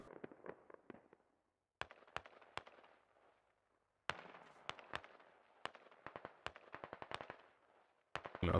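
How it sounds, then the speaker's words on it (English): Artillery barrage in the tactical shooter Squad: irregular volleys of sharp explosive bangs and cracks, some in quick clusters, separated by brief lulls, with rumbling decay after each impact. "An artillery barrage"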